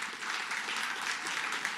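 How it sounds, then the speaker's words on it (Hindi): A large audience at a news event session claps loudly and continuously, a dense, bright wash of applause holding steady without pause and with no voices standing out. "जोरदार तालियां पहले"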